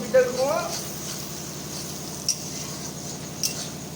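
Garlic being stirred in a cooking pot at an outdoor rainy-day picnic, soft scraping with a couple of light utensil clinks against the pot, under nearby talk.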